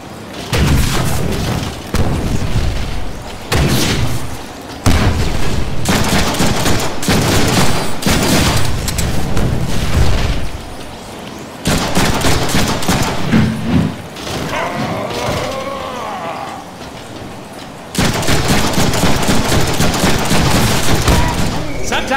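Gunfire in the Deadpool video game: loud, dense bursts of rapid shots and booming blasts in long sustained stretches, broken by brief gaps, with a game voice talking over parts of it.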